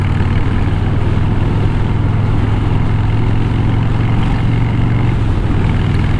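A Harley-Davidson Fat Bob motorcycle engine rumbles steadily while riding, a loud, continuous low-pitched drone with constant road and wind noise and no voices.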